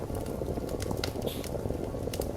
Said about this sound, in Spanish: Una vez hervida el agua,